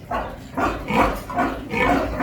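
Small pigs on a farm in Germany grunt in quick, repeated bursts, about five rough snorting calls in a steady rhythm, close by and fairly loud.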